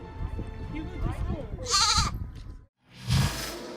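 Goats bleating at a tourist attraction where trained goats perch in trees, a couple of short bleats standing out over steady talk and background chatter.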